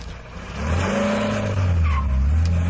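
A taxi pulls away, its engine rising as it accelerates off nearby, with a brief tire squeal partway through.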